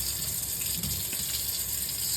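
Tap water pours steadily into a sink while homemade butter is squeezed and rinsed, a loud, even gush close by with no voices.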